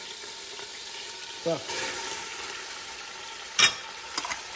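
Onions and garlic sautéing in a pan for a Sunday sauce, a steady soft sizzle with brief stirring clatters, heard under a short spoken word.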